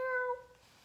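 A human voice imitates a cat's meow, a single short, fairly faint mewing call during a children's story reading.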